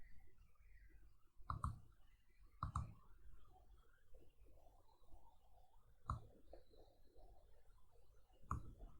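Sharp, faint mouse clicks, about four or five spaced apart, over a quiet room background.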